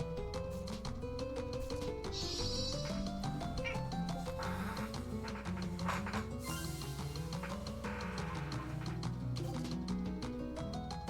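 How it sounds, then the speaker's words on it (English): A cat meows during play of the video game Tales of Berseria, its cries sitting over a steady, dense bed of game music across the clip. "Cat."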